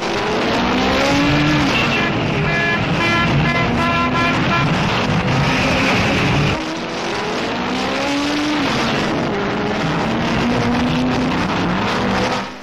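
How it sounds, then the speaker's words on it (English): Vintage race cars, Fords lined up beside the Works Bugattis, start together at the Tourist Trophy. Their engines make a loud, continuous, layered roar. The revving rises and falls throughout, with a brief dip partway through. "Fords are drawn up next to the Works Bugattis, and was there ever a start quite like this?"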